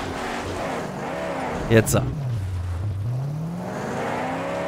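A car engine in the Mad Max video game drones and revs steadily, its pitch dipping and climbing again, with a short clunk midway and someone talking over it.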